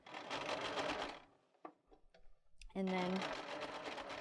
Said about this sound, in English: So we're going to go forward a couple stitches and then go back.